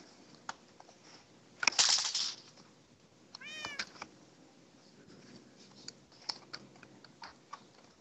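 Cat meowing in the Minecraft Mineplex Block Hunt minigame, one loud meow followed by a rising, wavering one, with light keyboard typing and clicking throughout.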